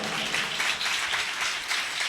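A congregation at a Christian worship gathering claps steadily, a dense, even wash of many hands that continues throughout without a pause.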